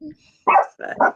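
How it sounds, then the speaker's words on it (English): A dog gives three quick, close barks, with a faint breathy sound before them and a brief spoken word alongside. "sorry about the dog."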